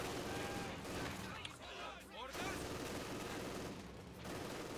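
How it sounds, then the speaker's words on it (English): MG42 machine gun fire in Company of Heroes 2 rattles through a dense, constant wash of battle noise, with gunfire and explosions layered together at a steady loudness. "the MG42 is ripping into that conscript squad"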